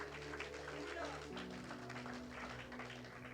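A church congregation applauding during a Spanish-language service, steady clapping from many people underneath a sustained musical tone and voices.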